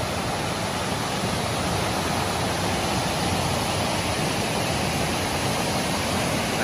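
Water rushes over the stone steps of a waterfall at Kadape Kondi near Mangaon, making a constant, loud, hissing roar that stays even and unbroken, with no voices.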